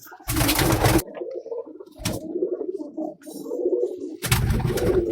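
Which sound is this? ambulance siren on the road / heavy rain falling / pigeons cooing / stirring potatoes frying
pigeons cooing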